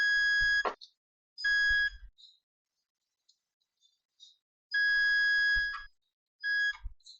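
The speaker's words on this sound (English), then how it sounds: "The beeping means the resistors are good." A multimeter on continuity testing resistors on a motherboard, giving loud high steady beeps in short bursts of about half a second to a second, separated by silent gaps and faint probe clicks.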